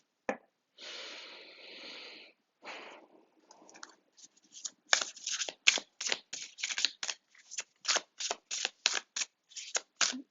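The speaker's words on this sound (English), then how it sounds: "I'm getting impatient to shuffle these cards." Tarot cards being shuffled, first as a few longer soft riffles, then a rapid run of crisp, evenly spaced flicks and snaps, close and fairly quiet, with no talking.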